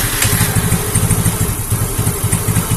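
Yamaha Mio J scooter engine running close by after a fuel pump IC fault, a steady pulsing idle with rhythmic low throbs throughout.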